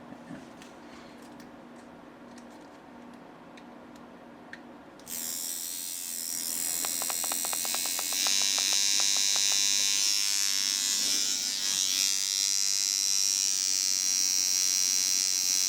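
A coil tattoo machine being tuned as a colour machine powers up partway through, switching from near silence to a loud, continuous high-pitched electric buzz that grows stronger and holds steady.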